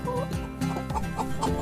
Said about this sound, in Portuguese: Galinha, chicken.